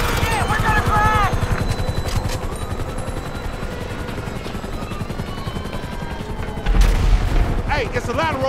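In Grand Theft Auto V, a helicopter's rotor chop beats steadily and loudly while bursts of gunfire crackle around it, with shouting voices over the noise and a heavier blast near the end.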